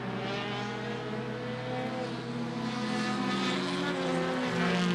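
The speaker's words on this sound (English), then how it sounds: "Stebbins, Fusil, and Lynn buzz by the Holbrook machine" Stock race cars on a super short track buzz past in a steady, dense engine drone, several cars overlapping at a distance with no pause.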